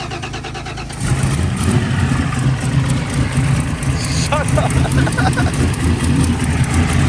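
A turbocharged car engine turns over after a second, then runs with a steady, loud low rumble, settling into a warm-up idle while people talk nearby.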